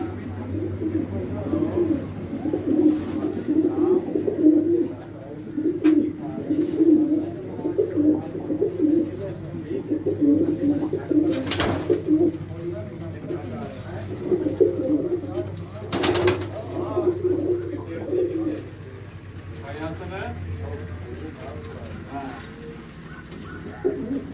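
Migratory pigeons coo in a steady, overlapping chorus on a rooftop in Jalalpur Bhattian, Hafizabad, soft and close, interrupted by a couple of brief sharp knocks or flaps, with occasional voices in the background.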